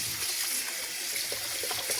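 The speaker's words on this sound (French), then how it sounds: "Mettre de l'eau froide." Cold tap water pours steadily over drained noodles in a kitchen, a continuous hiss and splatter at moderate level without any speech.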